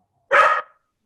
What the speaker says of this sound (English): I could hear barking